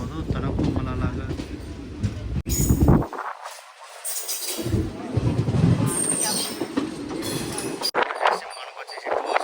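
Puri to Tirupati Express train running, rumbling carriages with rhythmic wheel clatter, squeals and rattling heard from onboard, loud and continuous with brief dropouts.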